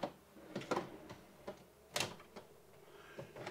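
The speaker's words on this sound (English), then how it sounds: "all your drawers are self-closing throughout the coach" Self-closing pull-out drawers in a 2017 Forest River Cedar Creek 36 CKTS Hathaway Edition fifth wheel trailer shut with several soft, quiet knocks and thumps spread irregularly across a hushed interior.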